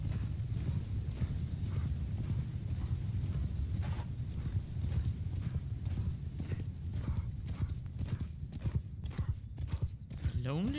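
Horse archers galloping in Mount & Blade II Bannerlord, a dense, continuous rhythmic clatter of many hooves with an occasional whinny, loud and close, with a voice talking over it.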